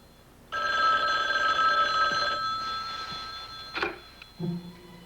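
A telephone bell rings once in a loud close burst, then fades as brief handling clicks and knocks follow, with no talking.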